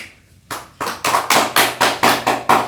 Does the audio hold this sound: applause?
yes